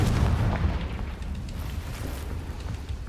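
A Confringo blasting spell explodes in the Hogwarts Legacy video game, giving a heavy, rumbling boom that is loudest at the start and then settles into a sustained low roar with no speech over it.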